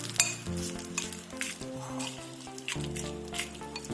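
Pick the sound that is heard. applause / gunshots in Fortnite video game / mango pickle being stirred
mango pickle being stirred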